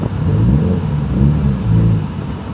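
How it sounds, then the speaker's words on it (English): A rear-wheel-drive sports car's engine lugs and bogs in first gear, nearly stalling, giving a close, loud, uneven low rumble with wavering pitch over about two and a half seconds. "first gear, it tried to stall out on me"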